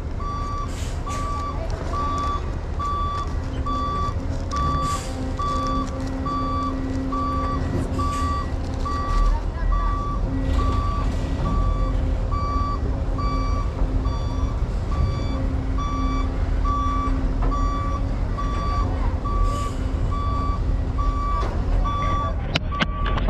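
A large truck pulls in with a steady, loud reversing beeper repeating throughout over its rumbling diesel engine, and voices talk nearby.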